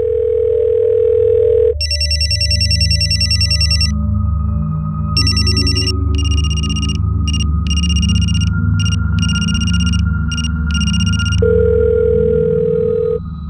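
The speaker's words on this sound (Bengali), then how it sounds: "ফোন বেজেই যাচ্ছে, কেউ তো তুলছে না।" A telephone in a home rings on and on unanswered, loud bursts of electronic ringing in repeated pulses over a steady low background hum, with no voices.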